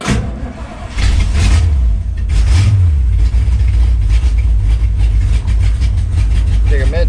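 A 1935 Ford Coupe's 327 V8 catches and settles into a loud, rumbling idle, a deep steady throb that holds with slight unevenness, with brief speech near the start.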